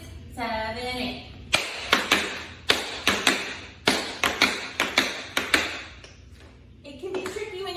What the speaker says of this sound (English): So you'll have jump, pull back, jump, pull back, jump, pull back, pull back, pull back